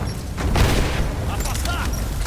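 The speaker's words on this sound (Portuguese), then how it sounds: "Jogando granada!" A grenade blast in Rise of the Tomb Raider, a loud, close boom that swells near the start and decays into a sustained rumble, with a voice talking over the combat noise.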